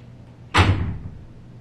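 A door swings shut with a single solid thud, close and fairly loud, fading quickly into quiet room tone.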